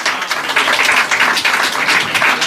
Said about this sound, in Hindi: उनके लिए भरपूर तालियां बजाइएगा।